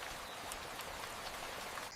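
Rain falls steadily in a soft, even patter with scattered drops tapping nearby, quiet and unbroken, with no voices.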